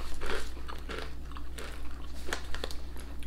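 Close, crisp crunching and chewing on Howdah snacks, several bites and chews following one another in quick succession with no talk over them.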